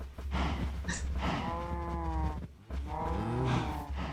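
Cows in the Minecraft video game giving low drawn-out moos, two separate calls a moment apart, loud and close with no talking.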